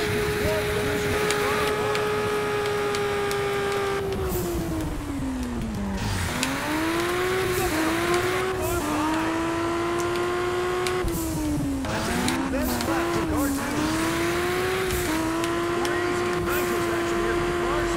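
Race car engine in the video game Juiced 2, a steady high-pitched drone that dips and climbs through gear shifts, with brief tire squeal, running continuously and loud while a player talks over it.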